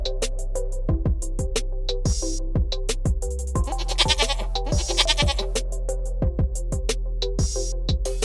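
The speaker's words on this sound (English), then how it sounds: "Goat." A goat bleats in a rapid series of loud, close, wavering calls, repeated again and again over a farm-animal setting, with no voices alongside.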